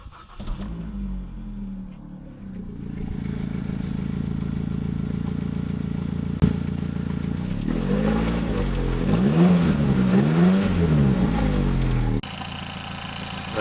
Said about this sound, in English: Sounds like the timing chain to me.